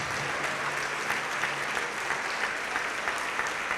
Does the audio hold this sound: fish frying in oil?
no